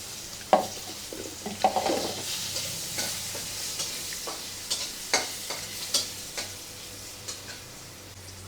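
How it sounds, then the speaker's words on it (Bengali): Potatoes fry in oil in a pan with a steady soft sizzle, interrupted by intermittent clinks and scrapes of stirring at close range. "মাছগুলো ভেজে তুলে নিয়ে এখন ভাজতেছে আলু"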